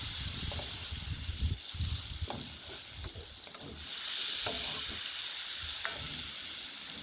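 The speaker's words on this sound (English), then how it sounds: "And throw in our butter. You want to keep stirring that around. Kind of a brown butter sauce" Butter sizzles and browns in a hot pan for a brown butter sauce, a steady close frying hiss broken by soft scrapes and clinks as it is stirred continuously.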